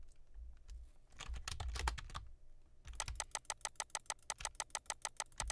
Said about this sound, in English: you just gotta spam click